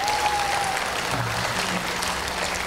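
Applause from an audience fills an arangetram of Bharatnatyam dance in India, a dense, steady clapping that holds at an even level throughout.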